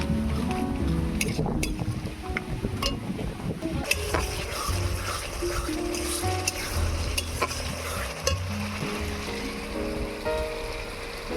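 Spice masala in a pan for a pangas and tangra fish curry, with water added and stirred in: a steady, close sizzle runs throughout under repeated spoon scrapes and knocks against the pan, with no one talking.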